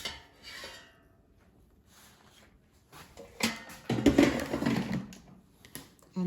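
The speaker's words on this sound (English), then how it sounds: "Let me take it out of the air fryer." Scraping and rubbing of metal on metal as a pizza puff comes out of an air fryer basket, quiet at first, then a louder cluster of rasping, clattering handling sounds near the end.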